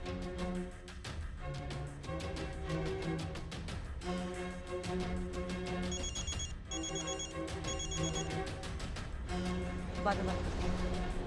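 A telephone ringtone sounds repeatedly over a busy musical background, its bright tones recurring in short bursts throughout.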